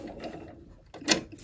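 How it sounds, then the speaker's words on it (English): A sewing machine's hand wheel is turned by hand to raise the needle, giving a quick, close series of small mechanical clicks and ratcheting ticks with one sharper click near the end. "You can use your hand wheel to lift your needle back up and then raise your presser foot."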